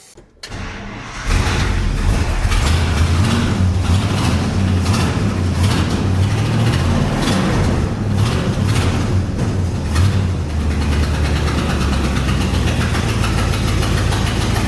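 An International 1110 truck engine cranks and catches in the first second, then settles into a loud, steady, close idle with a deep low rumble that runs unbroken to the end.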